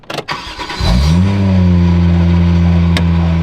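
A Toyota Soarer's engine cranks briefly, fires and settles into a loud, steady idle close by, with a sharp click near the end and no voices.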